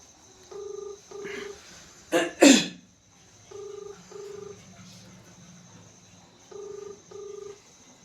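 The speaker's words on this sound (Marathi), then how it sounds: "मी एक फोन लावतो त्यांना" A phone line rings out in repeated double tones, three paired bursts spaced a few seconds apart, with a sharp cough or throat clear between the first two.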